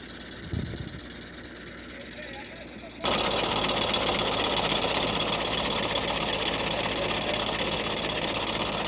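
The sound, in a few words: potato digger machine digging potatoes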